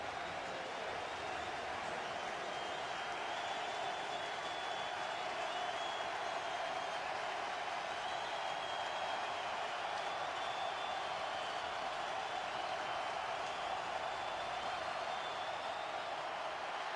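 Steady, loud stadium crowd roar at a Packers at Redskins NFL football game at FedEx Field, a continuous dense wash of noise holding evenly for the whole stretch with no breaks.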